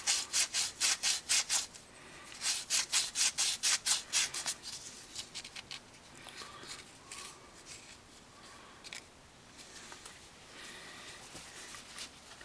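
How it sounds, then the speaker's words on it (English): Emery cloth is rubbed back and forth over a brake shaft on a 2009 Pontiac Vibe, fast rhythmic scrubbing strokes close up that fade into quieter, sparser rubbing later. "Take a little emery cloth and just clean up the top of the shaft a bit."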